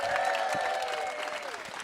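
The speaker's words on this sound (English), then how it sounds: "I want you to please give a warm round of applause for Callum Woodhouse, for Nicholas Ralph," Audience applause at a festival panel for a television drama, dense and steady throughout. Faint whooping voices ride over the clapping.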